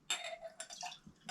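Whisky poured into a crystal glass in a backyard garden bar, a few short splashy bursts with faint clinks, close and quiet, broken by brief pauses.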